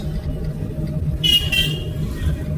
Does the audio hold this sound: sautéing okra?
no